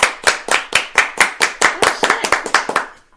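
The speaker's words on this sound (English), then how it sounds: "Golf clap, young guy." Hand clapping on a podcast, a dozen or so crisp, close individual claps in a fairly even rhythm, each sharp and bright, with no talking over them.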